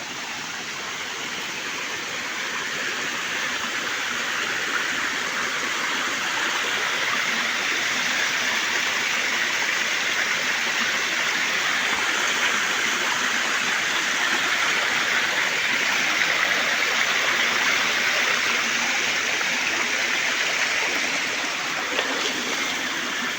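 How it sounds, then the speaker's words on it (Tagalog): A strong stream rushes steadily after heavy rain, its broadband roar close and constant from start to finish with no talking over it. "Kanang kusog kayong tubig."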